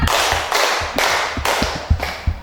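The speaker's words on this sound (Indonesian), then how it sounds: "Sekarang tepuk empat." A group of children in a classroom claps in unison four times, loud and close in a steady rhythm, followed by a few softer stray taps and thumps.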